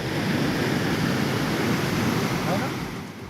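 Floodwater rushes over a road near the Kapileshwar temple in Kelwad, Nagpur, Maharashtra, after heavy rain. It makes a loud, steady broadband roar that is continuous and close, fading slightly near the end.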